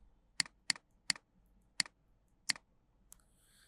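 Five sharp, evenly spaced keystrokes on a computer keyboard while Java code is typed, crisp and close in an otherwise quiet room, followed by a short faint shuffle near the end.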